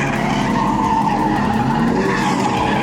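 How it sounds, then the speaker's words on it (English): A Nissan Skyline R32 drifting at a car show, tyres skidding in a loud sustained squeal with engine roar underneath, close and continuous for the whole stretch. "Bit of drifting, something unusual for us. Nice 32 Skyline going round"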